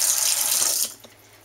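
Water from a Delta touch-activated kitchen faucet pours steadily into the sink with a broad, hissing rush, then cuts off abruptly partway through, leaving only a few faint drips.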